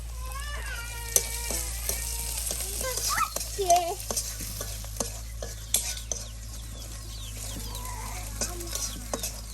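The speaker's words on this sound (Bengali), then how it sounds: "এখন পেঁয়াজ মরিচ সবকিছু একদম তেলে ভেজে না হলো" Onions and green chilies fry in hot oil, a steady sizzle broken by the scrape and knock of a spoon stirring against the pot, with faint birdsong and a rooster far off in a village outdoor setting.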